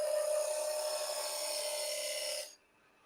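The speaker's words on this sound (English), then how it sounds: "I'm just smoothing the bottom down with a 1/8 inch parting tool." A 1/8 inch parting tool smooths the bottom of a wood piece spinning on a lathe, producing a steady close scraping hiss with a ringing tone that stops abruptly at the end.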